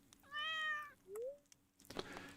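A cartoonish cat in the farming game Stardew Valley gives two short meows, a drawn-out one then a brief rising one, followed by light clicking game sounds.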